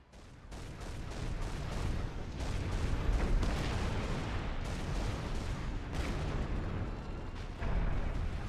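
Dense artillery fire from the real-time strategy game Supreme Commander: Forged Alliance, with booming shell blasts and explosions rolling continuously, overlapping and surging at moderate loudness throughout.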